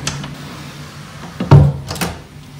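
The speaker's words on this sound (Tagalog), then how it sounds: "Ngayon, bubuksan ko yung pinto." A household door is opened while new kittens are nearby: a short knock-like thump, then a louder clunk of the latch and door moving, close and fairly quiet in a calm room.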